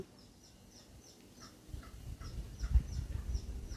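Bantam chickens on a farm in Chanthaburi, Thailand, give soft, repeated chirps and clucks at a distance, with low thumps and rustling growing louder toward the end.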